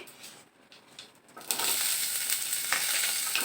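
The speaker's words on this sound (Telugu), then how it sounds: "ఆనియన్స్ మంచిగా పచ్చివాసన పోయేంత వరకు ఫ్రై చేసుకోవాలి" Chopped onions frying with cumin and whole spices in a pan for shahi paneer, a quiet stir at first, then a steady loud sizzle from midway on with no talk.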